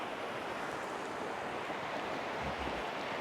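Water running beneath a sheet of ice along a hiking trail, a steady broadband rush with no distinct pulses and a faint low rumble near the end, continuous and fairly quiet throughout.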